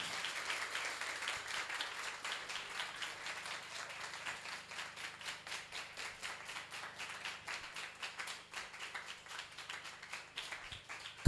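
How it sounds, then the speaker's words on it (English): Audience applause at an event, steady dense clapping from a crowd lasting the whole stretch at moderate level, with no voices over it. "Can we all continue clapping till 4 p.m.?"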